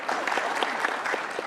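Studio audience on an Indonesian talk show claps steadily for a moment, a moderately loud wash of many hands with a few distinct sharper claps.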